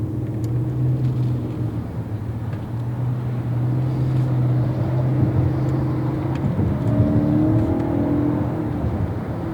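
A 2024 Lexus TX 550h+ hybrid SUV accelerates with a muted, steady drone and road rumble heard from inside the cabin. The pitch climbs gradually toward the end.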